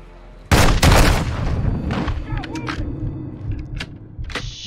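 Gunfire in Call of Duty Modern Warfare 2, a few loud close shots followed by scattered quieter cracks and rumbling battle noise.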